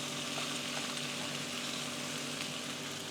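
Aldi luxury paella ingredients fry steadily in a packed pan, a dense continuous sizzle that stays even and fairly loud throughout with no talking.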